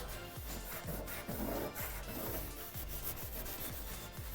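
Scotch-Brite pad scrubbing surface rust off metal, a close, continuous rasping rub in steady back-and-forth strokes with a regular rhythm throughout.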